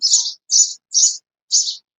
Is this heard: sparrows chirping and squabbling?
yes